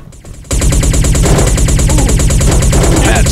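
Gunshots in the video game Batla: after a short quiet start, loud, rapid, continuous automatic fire with no break.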